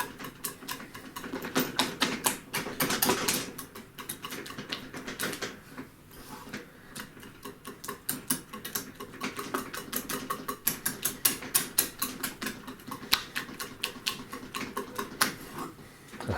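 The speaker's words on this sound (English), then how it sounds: "now I'm just going to be whisking to make it nice and smooth" A whisk works cheese sauce for taco dip in a pan, giving a fast, steady run of light metallic clicks and taps that carries on throughout, close and fairly quiet, with no talking.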